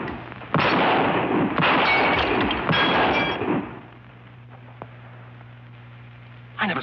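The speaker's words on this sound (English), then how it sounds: "I never saw shooting like that before." Gunshots from trick shooting at targets in an old Western drama, a few sharp loud bursts with clatter in the first few seconds before the scene quiets to a low hum, with one faint knock near the end.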